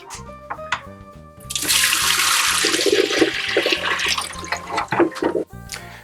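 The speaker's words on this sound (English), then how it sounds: "to get it all mixed up and pour it down the drain" Homemade honey mead sediment is stirred up and poured down a drain, giving a sustained rushing, gurgling wash of liquid after a few soft clinks, close and fairly loud, with no voices.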